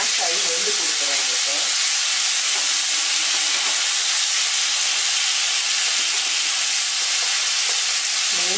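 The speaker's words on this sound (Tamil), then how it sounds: "மறுபடியும் குக்கரில் சவுண்ட் விட போகிறோம்" Steam hisses steadily and loudly from a pressure cooker's whistle during chicken biryani cooking, a dense unbroken rush that lasts throughout with no voices.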